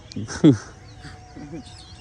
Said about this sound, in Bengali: আমি টিয়া পাখি শব্দ পাইছি এই জায়গার থেকে